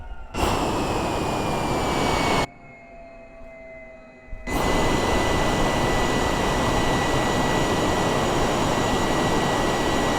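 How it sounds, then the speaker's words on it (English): Jet engines on a simulated aircraft in Microsoft Flight Simulator 2020 roar loudly, cut out abruptly into near silence for about two seconds, then surge back to a full steady roar. "Sounded like the engines completely died on us"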